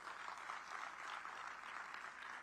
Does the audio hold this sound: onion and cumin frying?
no